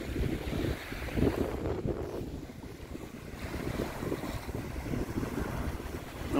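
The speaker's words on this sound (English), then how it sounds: "The wind is nice and cool" Steady wind at Lake Victoria buffets and rushes continuously, a broad roar with gusty swells and some lapping water, loud and close throughout with no talk.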